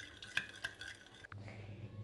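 Warm milk, oil and sugar being stirred in a bowl until the sugar dissolves, a few close clinks of utensil against the dish over a soft steady swish, ending in a low rumble.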